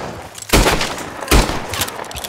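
Gunshots in a hunting-style video game: two loud, booming reports about a second apart, each with a short decaying tail over a busy game background.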